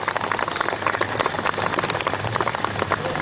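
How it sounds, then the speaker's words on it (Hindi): A hall audience at a Hindi comic poetry gathering claps together, a steady patter of many hands with a few sharper claps, fairly close and continuous. "मैं चाहता हूं पूरा सदन एक बार हाथ खड़े करके जोरदार तालियां बजाइए"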